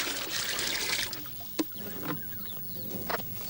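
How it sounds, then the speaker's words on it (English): Water from a bucket pours and splashes over a dog during a wash, with a few distinct sloshes and trickles at close range against quiet outdoor background. "we wash him by bucket, and it's a lot quicker and it saves a lot more water"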